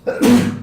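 A single short, sharp sneeze up close, a quick intake followed by a loud burst, clear and alone.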